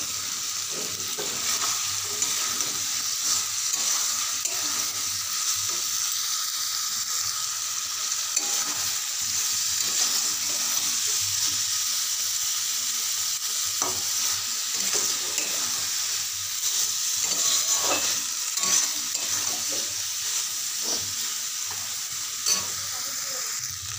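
Aloo posto, potatoes with poppy seeds, stir-fried dry in a pan with no water, giving a continuous close sizzle with frequent scraping and stirring sounds and no speech.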